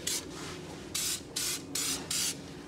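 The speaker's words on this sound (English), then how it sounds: "So just spray where you see rust starting." Rust protection being sprayed onto a Troy-Bilt Vortex Tracker 2890 snowblower, a series of five short hissing aerosol bursts in an uneven rhythm, close and clear over faint background noise.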